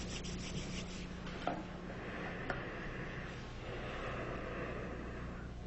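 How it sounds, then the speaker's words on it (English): Two palms rub together briskly in a steady, close, hushed swishing friction with a couple of faint soft knocks, over a low background hum. "Now rub your hands"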